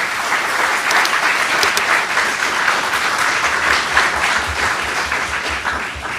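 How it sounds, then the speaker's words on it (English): An audience at a Constitution Day discussion event applauds, sustained clapping from a large room that holds steady for several seconds, full and fairly loud, with no speech. "Let's give them a round of applause."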